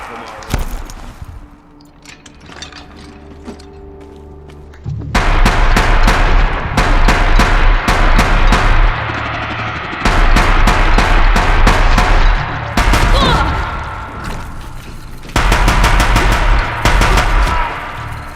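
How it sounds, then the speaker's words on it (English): Loud bursts of rapid automatic fire from the Deathbringer gun in the video game Horizon Zero Dawn, in long sustained volleys split by brief pauses. "I have a Deathbringer gun as well"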